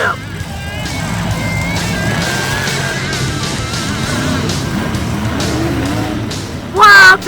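Grave Digger monster truck in the Monster Jam video game, engine droning loudly and steadily throughout a freestyle run, with a sharp tire squeal bursting near the end.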